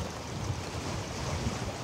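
Wind blowing hard at a harbor at night, a steady broadband rush with low rumbling gusts and possible water wash, continuous and fairly faint, no voices.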